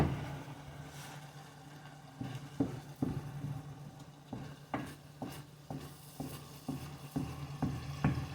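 Meat fried in a pan for a ramen-noodle and vegetable dish, with a steady low sizzle and repeated sharp clinks and scrapes of stirring at a close distance, with no talk.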